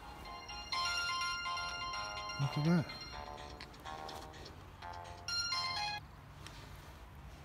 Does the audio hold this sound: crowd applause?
no